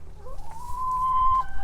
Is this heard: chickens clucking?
yes